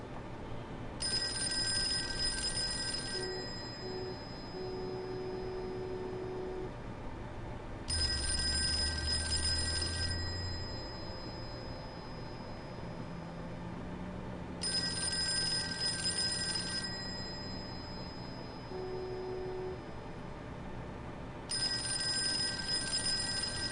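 An old-style telephone bell rings in repeated bursts of about two seconds, spaced several seconds apart, over a steady murmur of background ambience with no speech.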